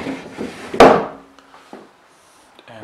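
Wooden drawers in a rented flat's room slide and bump, with one loud thud of a drawer shutting followed by fainter rubbing and knocks nearby.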